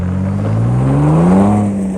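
Ford Bronco Raptor engine accelerating while driving on a winding road, a close, steady drone that climbs smoothly in pitch for about two seconds.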